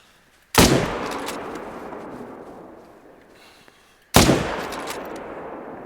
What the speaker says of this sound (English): So if I switch guns, I can now shoot all the way from back here.